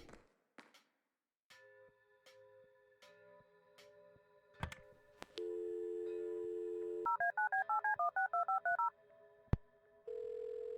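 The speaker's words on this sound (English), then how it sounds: "Maybe I can make a phone call to get away from the desk, maybe." Telephone keypad tones from the PC game Kathy Rain as a number is dialed, with a steady dial tone, a quick run of DTMF beeps, then a ringing tone, all clean and electronic with no talking.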